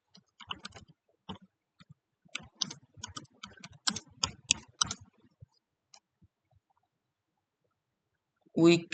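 Close computer keyboard typing in quick, uneven bursts of keystrokes, pausing briefly mid-way and then trailing off into quiet, with a short louder noise at the very end.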